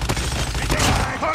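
Quick volley of gunshots in Call of Duty Mobile, a few sharp cracks packed into a short burst with a voice shouting over the firing.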